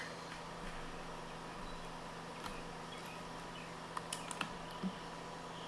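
A cat steps across a computer keyboard, tapping keys in sparse, irregular clicks, mostly faint with a few sharper presses near the end over a low steady hum.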